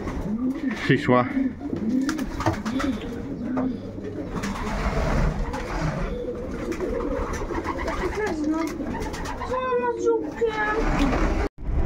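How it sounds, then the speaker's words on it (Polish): Racing pigeons coo repeatedly nearby in soft, throaty bursts, while someone talks over them and other bird calls and outdoor noise fill in behind. "Tutaj obok mnie w tych dwóch klatkach są gołębie typowane."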